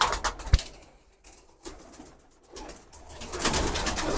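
Pigeons cooing at a loft where young racing pigeons are raised, soft low calls repeating at a moderate distance amid faint rustling and background noise, no talk.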